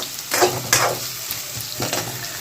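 Potatoes sizzle in hot oil in a pan while being stirred, a steady frying hiss broken by a few scraping stirs, close and moderately loud with no talk.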